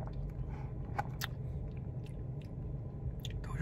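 Someone chewing sugar from the bottom of an iced caramel coffee with cream, soft close-up crunching and squishing bites repeating irregularly over a faint background murmur.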